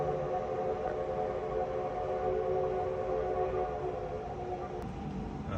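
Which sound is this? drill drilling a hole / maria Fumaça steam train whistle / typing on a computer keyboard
maria Fumaça steam train whistle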